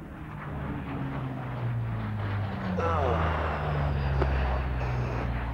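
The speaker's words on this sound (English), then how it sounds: "What you're watching right now is the inverted whisper pass at idle power." An F/A-18 Hornet jet fighter makes an inverted whisper pass at idle power during a demo flight, a steady low engine roar and rush that swells slightly as it passes, with a brief rising whine partway through.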